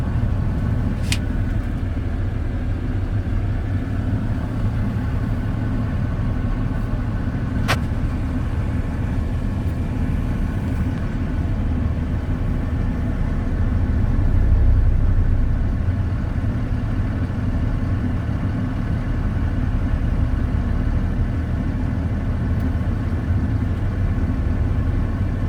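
A car engine idles steadily at low pitch through a driving lesson, a constant near rumble with a slight swell midway, plus a few faint clicks and no talking.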